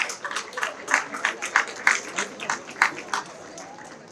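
Scattered applause from an audience at a convocation ceremony rises and falls in uneven bursts of clapping over about four seconds, fairly distant and thin rather than a full roar.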